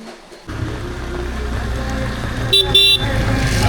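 An auto rickshaw pulls up in traffic with a steady engine rumble, then two short horn toots close by near the end.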